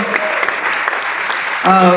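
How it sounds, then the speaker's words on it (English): Audience applause at an event honoring a documentary film, a dense wash of clapping across the whole stretch that swells louder near the end. "Yeah, you should definitely clap."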